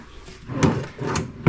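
A drawer in a big shelving unit slides and bumps in a few short knocks and scrapes, close by, with no talking over it.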